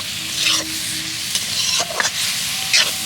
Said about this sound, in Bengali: সোয়াবিনটা মশলার সাথে দিয়ে ভালো করে নেড়ে চেড়ে নেব